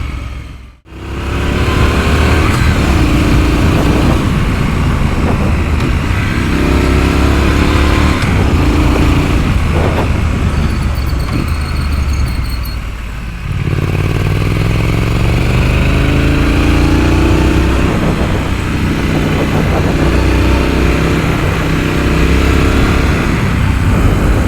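A 2023 Triumph Scrambler 900 motorcycle engine is heard while riding, loud and close. Its revs rise and fall repeatedly through gear changes, with a short dip partway before it pulls strongly again.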